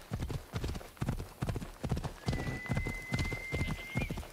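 Hooves pound in a rapid, even rhythm as a horse gallops in the video game Assassin's Creed Odyssey, close and steady throughout, with a faint whinny-like tone partway through.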